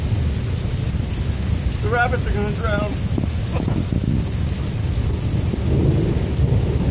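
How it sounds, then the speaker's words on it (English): A Minneapolis thunderstorm pours steady, dense rain with a deep thunder rumble underneath, loud and continuous; a person speaks briefly over the downpour. "Hey, thunder!"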